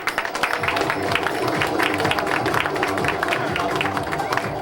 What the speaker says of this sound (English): have another round of applause for our lovely dancer.